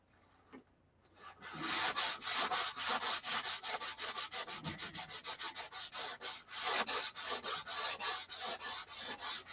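Steady strokes of sandpaper rub across a wooden Viper model, a fast rhythmic rasping that repeats without pause, close and fairly loud on its own.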